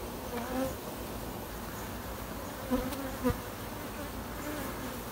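Honey bees fill a dense, honey-laden attic hive with a continuous soft buzzing hum, faint and even, with a few individual bees droning closer for a moment.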